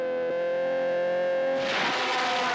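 Racing car engine, a Porsche 917 or Ferrari from a motor-racing film, holding a steady high harmonic drone that swells into a loud, rough roar as it passes close.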